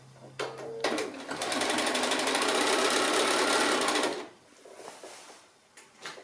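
Sewing machine stitching a straight quarter-inch seam on a scrappy quilt block: a steady, loud mechanical whirr of rapid needle strokes for about three seconds, then it stops, with light handling clicks before and after.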